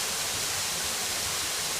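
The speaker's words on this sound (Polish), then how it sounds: "Czyli pierwszy wodospad na, Filipinie, na Filipinach zaliczony" Waterfall in the Philippines, heard as a dense, even hiss of falling water that fills the whole short stretch at steady loudness, with no voices over it.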